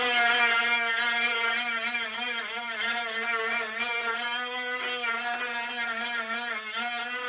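A Dremel rotary tool sands a plastic body for an RC4WD Chevy K10 Scottsdale mud truck, a steady high-pitched motor whine that wavers slightly as the bit bears on the plastic, close and continuous with no talking.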